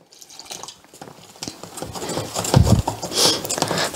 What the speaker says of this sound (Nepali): यसरी अलिअलि पानी हाल्दै एउटा घोल बनाउनुपर्छ।